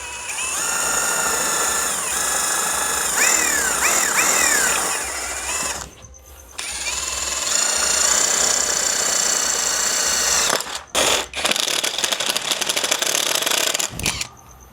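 An EMTOP M16 16V cordless impact driver drills a groove with a dull bit. Its loud, close motor whine holds steady and shifts pitch, breaks off briefly twice, then restarts in short bursts.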